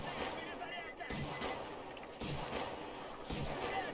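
Gunfire in the video game Metro Exodus: several sharp gunshot bursts ring out at intervals over steady background game sound.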